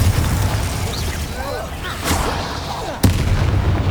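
Spell explosions in the Hogwarts Legacy video game go off as rapid, booming blasts and bursts during combat, with a sharp loud hit near the end, while a voice talks over the action.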